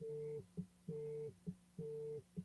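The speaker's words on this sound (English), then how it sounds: "Oh, somebody's calling Nick's phone" A phone rings in a repeating tonal pattern, three even cycles of a long buzzing tone followed by a short chirp, faint and in the background with no speech.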